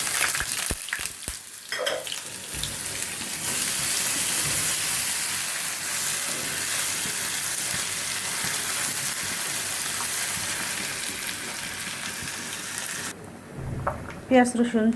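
Onion and garlic fry in a pan with a steady, loud sizzling hiss that holds for most of the stretch, preceded by a few clatters as they go in, then cut off near the end.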